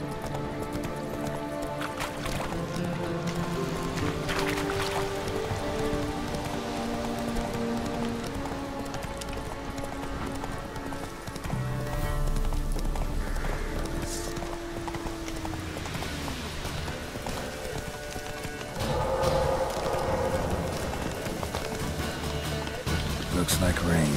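Roach, Geralt's horse in The Witcher 3, gallops with steady rhythmic clip-clop hoofbeats close up over ambient game music, with rain starting and a voice speaking briefly.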